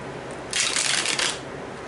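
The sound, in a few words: playing cards being shuffled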